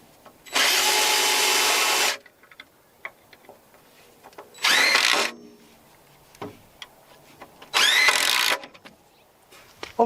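A power drill drives fasteners for hurricane ties on a joist during outdoor construction of a 16x40 building, whirring loudly in three separate bursts, the first long and the next two brief, with small knocks between.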